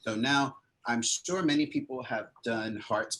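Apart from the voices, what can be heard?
No distinct noise like a dog, phone or traffic.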